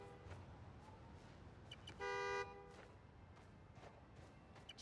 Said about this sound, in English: The more annoying the horn gets, the closer I am.